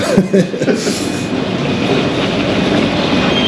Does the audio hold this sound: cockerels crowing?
no